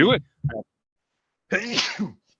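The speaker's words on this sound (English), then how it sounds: "I just had to sneeze" A short voiced sound, then after a pause a single loud, close sneeze with a breathy burst at the end.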